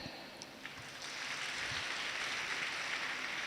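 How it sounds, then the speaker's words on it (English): An audience at a nursing college's International Nurses Day event breaks into applause to welcome a speaker. A few scattered claps come first, then a steady, moderately distant wash of clapping with no talk over it. "Let's welcome her with an echoing clap."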